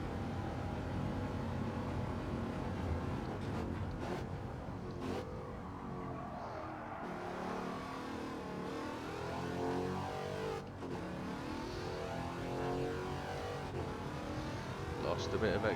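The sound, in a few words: Wicked Fabrication GT 51 race car engine in Gran Turismo 7 video game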